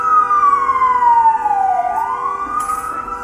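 A loud ambulance siren in traffic wails steadily, sliding down in pitch and then climbing back up in one long sweep, close by and clear of any talk.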